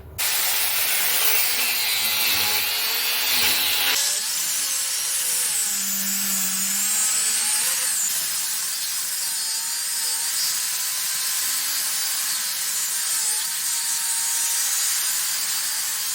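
A square steel bar, hammered square for forging a split cross, is cut with a power tool, giving a steady, loud, continuous abrasive whine with a harsh rasping edge that runs the whole time, briefly deepening early on, with no talking.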